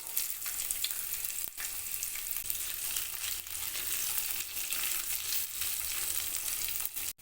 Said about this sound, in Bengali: এবারে দিয়ে দেব ওর মধ্যে পাঁচ ফোড়ন আর দুটো শুকনো লঙ্কা ফাটিয়ে একই সাথে দিয়ে দেব কিছুটা কোচানো রসুন দিয়ে দেব কোচানো পেঁয়াজ